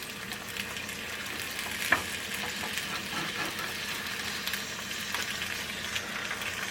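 Potatoes and kielbasa frying in a pan for Cajun fried potatoes, a steady close sizzle with light crackles and one brief clink of a utensil, no talk.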